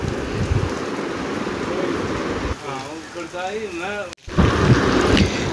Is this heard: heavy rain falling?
yes